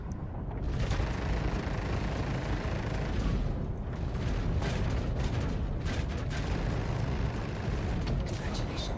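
Ship guns in Star Citizen fire a Deadbolt and Death Roll weapon combo from a Basher light fighter, producing a dense, continuous roar of rapid blasts and booms that stays loud throughout the space battle.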